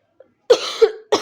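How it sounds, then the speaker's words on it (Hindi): A single person coughs sharply and close by, a short burst followed by a second cough, with a brief faint sound just before and no talking. "ये मेरी खांसी"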